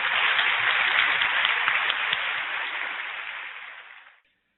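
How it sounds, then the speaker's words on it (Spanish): Applause from the audience at a public accounting day ceremony for a university program, steady dense clapping that fades out and stops after about four seconds. "Y un aplauso también."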